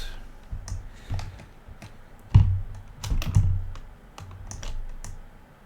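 Loud, clacky computer keyboard being typed on while mapping in Inkarnate, with irregular bursts of key presses and a few heavier thumps, close and alone without talk.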